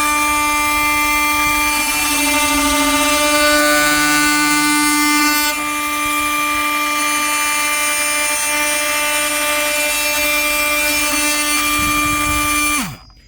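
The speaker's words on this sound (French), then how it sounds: "Voilà ce que ça donne en vitesse maximum avec une bonne pénétration du bois." A Bosch Professional GOP 18V-34 oscillating multi-tool cuts into wood at maximum speed, producing a loud, steady, tonal whine. It holds for about thirteen seconds, then winds down and stops.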